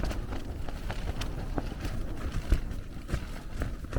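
Gusty wind buffets a tent on Bodmin Moor, its fabric flapping in irregular, rapid bursts over a continuous low rush of wind noise close to the microphone.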